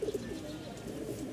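A colour-matched Rajshahi Giribaz pigeon gives short, low coos at the start and end of a brief moment, over a soft steady background murmur.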